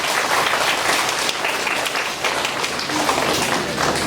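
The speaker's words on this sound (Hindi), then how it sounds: "हमारे बाल सुमन के लिए फिर से एक बार जोरदार तालियां हो जाएं" Loud, steady applause from an audience at a school role-play competition on mythological characters, cheering Grade 3 child performers; dense continuous clapping fills the whole stretch at close range.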